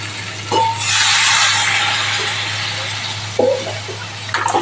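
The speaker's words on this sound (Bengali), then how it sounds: "এটা হোক তাহলে একটু জল দিয়ে দেবো" Water pours into a cooking pot in a home kitchen, a close, steady rushing hiss that lasts a few seconds before faint clinks of the vessel, over a low background hum.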